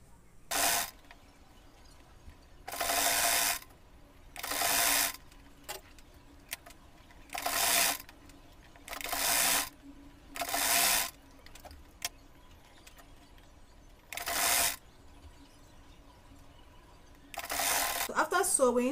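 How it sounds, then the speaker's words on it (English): A sewing machine stitches one side of a fabric sling bag in short, regular bursts of about a second each, separated by quiet gaps, close and clear. "I'll go ahead and sew one side"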